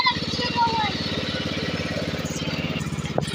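Farm tractor engine pulsing steadily as it is driven in close by while clearing pruning debris, a rhythmic mid-pitched chug with a person speaking over it.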